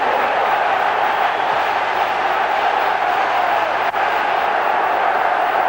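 A football stadium crowd roars after a Clayton Blackmore free-kick goal for Manchester United in the 1991–92 season, a dense, loud, sustained wash of cheering that holds steady throughout.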